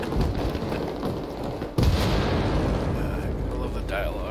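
Frag grenade explosions in a video game, a sudden heavy boom midway with a rumbling low-end aftermath over ongoing battle noise, with voices underneath.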